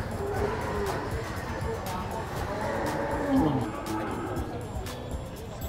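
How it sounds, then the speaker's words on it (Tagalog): A female water buffalo lows in a low, drawn-out moan amid steady outdoor noise, with people talking nearby. "Oh, ito pong kalabaw"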